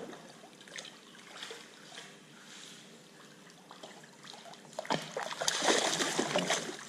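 Small dog, a Cavalier King Charles Spaniel, swimming: soft trickles and light splashes in water at close range, swelling into busier splashing near the end.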